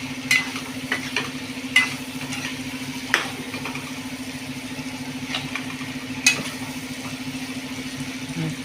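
Masala sautéing in oil for a moong dal and brinjal kootu, with a steady sizzle and a low hum throughout, broken by several sharp scrapes and clinks of a spoon stirring the pan.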